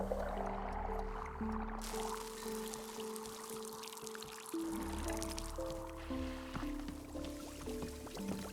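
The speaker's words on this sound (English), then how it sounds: "Okay, let's dump the tea." Liquid poured out steadily in the video game Wanderstop as tea is dumped, a soft continuous trickle under tonal game music with no talk.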